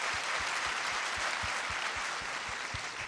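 A large audience claps steadily at a Karachi Arts Council literature and culture festival held in Lahore, a dense, even wash of applause that stays loud from start to finish with no voices over it.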